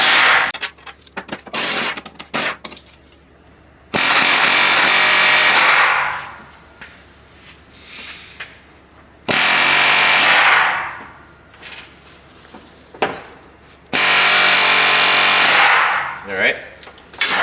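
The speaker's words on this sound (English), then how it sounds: "we're going to take an air hammer and drive them down through" Air hammer fitted with a socket hammers wheel studs out of a 2nd gen Tacoma rear hub during a wheel bearing replacement, loud close bursts of rapid pounding repeated several times, separated by quieter gaps with clanks and handling noise.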